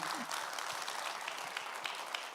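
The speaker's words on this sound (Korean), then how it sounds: "박수 한번 주시기 바랍니다" Audience applause at a book concert for a Gimpo city council member's book launch, a steady, dense round of clapping filling the hall, with faint voices mixed underneath.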